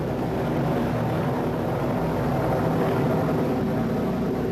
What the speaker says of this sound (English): The Japanese pilots take off, heading for the closest American carrier, Yorktown.